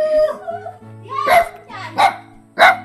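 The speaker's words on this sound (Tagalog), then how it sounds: "Kanino ba itong aso?" Dog barking in a series of sharp, loud barks, with a few softer whimpering yips at first, then three strong barks spaced about half a second apart, close by over low background noise.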